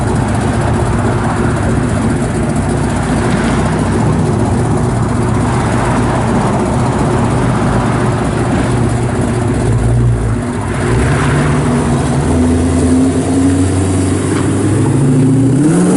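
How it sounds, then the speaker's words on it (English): Steady, loud road traffic rolls past continuously outside a car dealership on South State Road in Goodrich, Michigan, with engine drone and rising revs toward the end and no voices. "Got quite a bit of traffic today."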